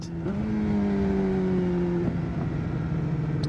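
A Suzuki 750 motorcycle engine revs up, holds a raised, buzzing tone for about two seconds, then drops back to a steady idle, close and fairly loud.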